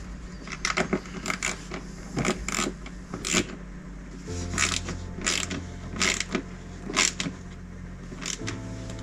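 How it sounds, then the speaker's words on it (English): Ratchet wrench clicking while tightening bolts on a Harley Davidson Road King motorcycle, with repeated bursts of quick ratcheting strokes close by and a steady low hum underneath. "And you need to use that wrench."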